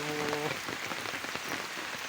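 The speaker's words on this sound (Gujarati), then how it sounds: "વરસાદ પડે છે ફૂલે ફૂલ" Heavy rain pours down steadily in a continuous, dense hiss over an outdoor spot where livestock rest, with a brief tonal sound at the very start.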